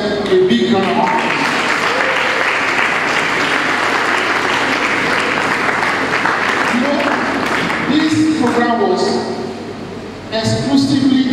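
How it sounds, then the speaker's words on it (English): Audience at a public bursary-week lecture breaking into loud, sustained applause for several seconds, dense close clapping that fades as a voice speaks again near the end. "can you give yourself a big round of applause?"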